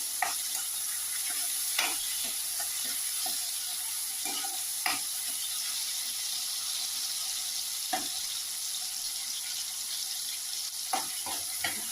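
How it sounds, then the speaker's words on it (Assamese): Tomatoes fry in a pan as part of a taro and tomato fish curry, giving a steady, quiet hiss with a few scattered clicks and scrapes from stirring, and no voices. "অকণমান ভাজি ল'লোঁ।"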